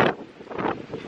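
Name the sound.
strong wind in Karlobag, Croatia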